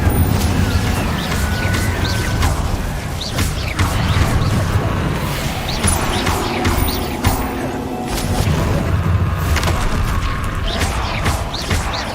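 Incendio fire spells cast repeatedly in Hogwarts Legacy, a run of bursting whooshes and crashing impacts against a busy game-combat background.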